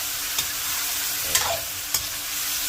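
Onions sizzling steadily in hot oil in a pan for an Ilocano chicken tinola, with a few sharp scrapes of a utensil stirring them, close and alone.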